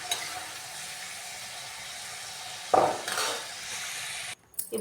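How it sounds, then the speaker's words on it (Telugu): Indian gooseberries (amla) frying in oil until golden brown, a steady close sizzle with a louder burst of spattering and utensil scraping partway through before it cuts off. "మంచిగా గోల్డెన్ బ్రౌన్ కలర్ వచ్చే వరకు ఫ్రై చేసుకోవాలండి వీటిని"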